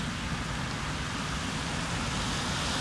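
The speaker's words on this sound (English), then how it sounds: "The weather, it's raining." Steady rain falling outdoors on a July day, a dense, even hiss of drops that stays constant and close with no talk over it.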